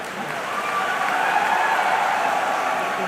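Audience at a Hindi comedy poetry show breaks into sustained applause, a dense steady wash of clapping that swells slightly and holds near the front.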